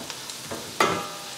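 Grated garlic cooking with onions in a pan, a faint sizzle under a couple of soft stirring scrapes, one sharper clatter partway through, no talking.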